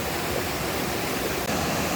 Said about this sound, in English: And a waterfall off to the side over there.